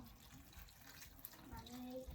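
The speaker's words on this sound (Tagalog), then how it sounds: "lagyan natin siya ng tubig" Water runs from a tap and splashes steadily into a cooking pan of sautéed mixed vegetables with bacon for a couple of seconds, with a faint hiss rising toward the end.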